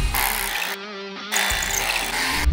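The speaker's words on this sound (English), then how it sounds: "Let's drill our anchors." A power drill bores anchor holes into concrete footings for a deck, a loud continuous whirring grind that briefly changes pitch midway before resuming at full strength.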